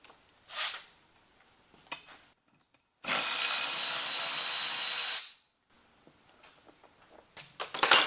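A power tool removes the 15mm nut holding a wiper arm to the cowl on a Ford Escape: one loud, steady whirring burst of about two seconds, with faint clicks and handling noises before and after and no talk.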